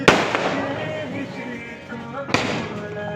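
A Diwali multi-shot firecracker, roughly 24 shots, bursts loudly nearby with sharp cracks at the start and again near the end, a crackling tail in between, and people talking around it.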